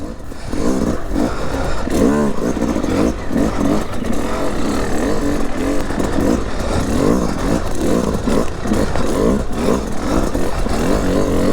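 A two-stroke hard enduro motorcycle fitted with a converted power valve lugs at low revs, its engine chugging and rising and falling continuously and close, with scattered clatter throughout.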